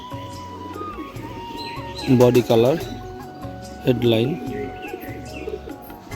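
Close, loud cooing from a domestic Madras pigeon, two distinct throaty coo phrases with a pause between, while someone talks over a quiet background.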